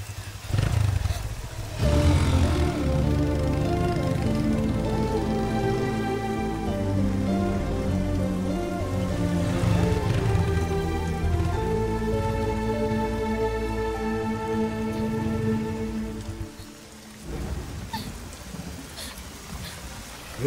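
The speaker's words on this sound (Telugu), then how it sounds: "వర్షం పడుతుంది" Rain falls steadily while low rumbles swell and fade underneath, and a sustained musical tone rises over the downpour partway through before it thins out near the end.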